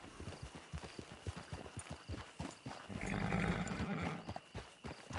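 Horse hooves clip-clopping on the ground in the video game Red Dead, a steady rhythmic trot at moderate distance, with a louder rushing swell of ambient noise midway.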